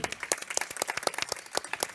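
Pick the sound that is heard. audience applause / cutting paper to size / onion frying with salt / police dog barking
audience applause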